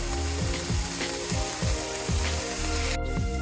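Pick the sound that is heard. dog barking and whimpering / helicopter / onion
onion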